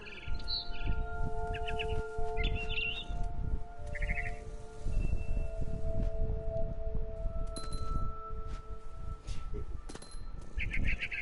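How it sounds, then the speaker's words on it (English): A barn swallow chirps in short, bright bursts near a window in the video game What Remains of Edith Finch, repeating over a steady ambient background with soft sustained tones. "Then I heard chirping outside my window. It was a barn swallow going back to her nest."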